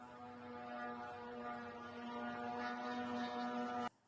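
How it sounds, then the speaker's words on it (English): The two-stroke double-piston engine of a Shahed 136 drone drones with a steady, buzzing hum that holds at an even pitch and level, then cuts off abruptly just before the end. "It's a double piston engine. 2-stroke."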